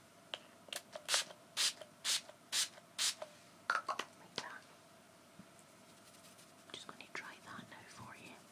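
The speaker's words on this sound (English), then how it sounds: "Finishing spray or fixing spray." Makeup finishing spray misted from a pump bottle onto a face, six or seven short, crisp sprays in quick rhythm, heard close and quiet, followed by soft rustling and handling sounds.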